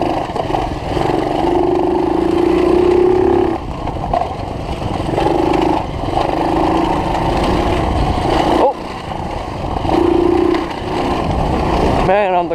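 A dirt bike engine revs hard in fourth gear, droning loudly in long sustained bursts that rise and fall, with brief dips between pulls and a voice speaking at points over the motor.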